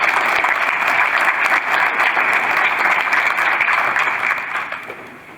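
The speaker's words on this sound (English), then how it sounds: "Give him a round of applause." Steady, close applause from an audience at an auto show presentation, a full round of clapping at constant strength that fades slightly toward the end.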